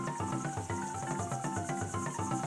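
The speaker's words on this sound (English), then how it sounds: "those supposed to be cicadas?" Cicadas buzz in a Trials of Mana Super Nintendo soundtrack, a steady pulsing, looping synthesized chirr with a regular rhythm, moderately quiet and heard alone.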